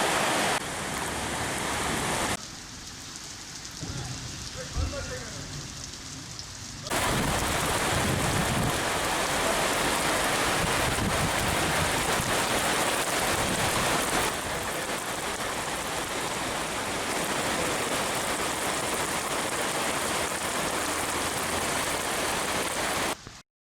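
Heavy June rain pours down on the streets of İskenderun, Hatay, a dense, continuous hiss of rainfall that dips briefly quieter before returning at full strength and staying steady throughout, with no voices.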